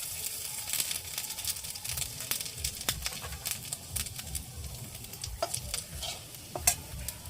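Bay leaf and panch phoron spices fry in oil, crackling and popping in quick irregular bursts over a soft continuous sizzle, with occasional stirring and a faint bird call in the background.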